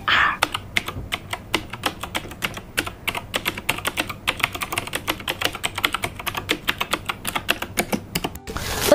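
Avocado-green mechanical keyboard typed on steadily, a dense run of crisp, close key clacks in uneven bursts across the whole stretch, no talking.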